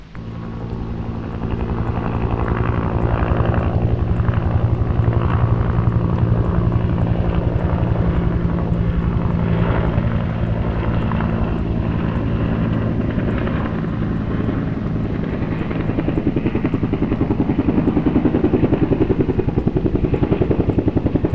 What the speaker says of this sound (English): The helicopter lands, the team climbs aboard, the helicopter leaves.